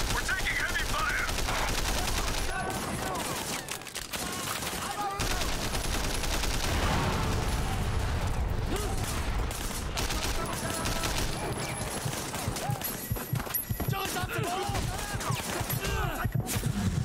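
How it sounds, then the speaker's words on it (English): Heavy gunfire in the video game Sleeping Dogs: dense, continuous fusillades of rapid shots and automatic bursts pound without pause throughout, loud and close, with faint voices mixed underneath. "We're pinned down! We're taking heavy fire!"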